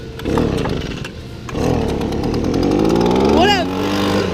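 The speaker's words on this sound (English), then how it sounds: "Don't you guys love whenever and Jackson can't start the blower?" A small two-stroke leaf blower engine, just started after refusing to turn on, runs with a loud, steady buzzing drone and a rising rev near the end, close by, with people talking over it outdoors.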